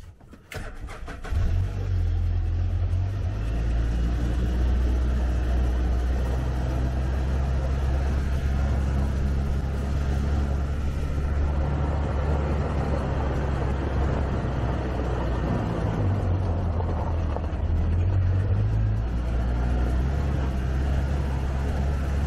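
A vehicle starts up and drives across a small farm, its engine a loud, steady close rumble with low droning tone that rises slightly midway, sustained throughout.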